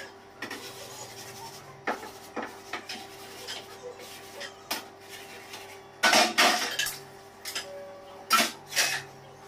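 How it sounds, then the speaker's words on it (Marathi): Dishes, pots and pans being washed by hand in a home kitchen: intermittent clinks and clatters of metal and crockery, some near and loud, over a low steady background hum. "भांडी घासले"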